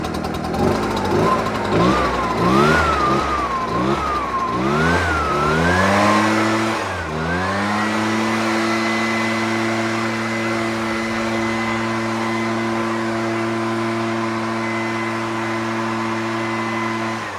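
An Echo PB-755ST backpack leaf blower engine, brand new and just broken in, revs in repeated bursts before settling into a steady, loud high-speed drone with no talking.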